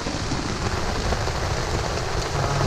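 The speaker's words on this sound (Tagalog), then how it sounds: "Malakas yung ulan tapos malakas yung hangin." Heavy rain falls steadily during a storm at a camping site, a dense, loud, even hiss with wind blended in and no voices.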